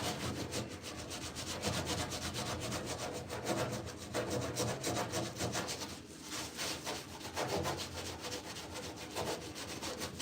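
Quiet, continuous back-and-forth scrubbing of a Scotch-Brite pad over a panel coated in paint stripper, with even, rhythmic strokes and no talk.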